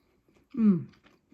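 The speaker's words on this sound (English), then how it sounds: "The crunch of the garlic, the crunch of the seeds" A single crunchy bite into crispy stuffed seeded garlic flatbread, close and brief, with a faint voiced sound during the chew and quiet around it.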